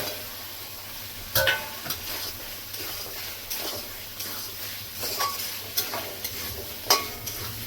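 Amaranth stems are stirred through spice paste in a pan for a Bengali fish curry, a low sizzle broken by intermittent scraping strokes and a few sharp utensil clinks.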